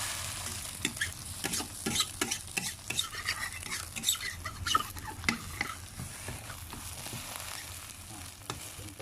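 A thin egg omelette fries in a little oil in a pan, with a soft steady sizzle and frequent light scrapes and taps of a utensil against the pan throughout.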